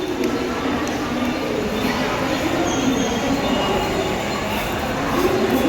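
A train approaching Bandra station, a steady loud rumble of carriages and wheels with faint squeals and a continuous roar, with people talking under the noise.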